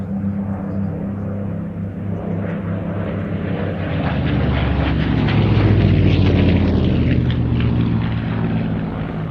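A propeller aircraft flies past at the Midlands Airshow, its engine drone loud and steady and swelling slightly toward the middle as it passes near, with no voices.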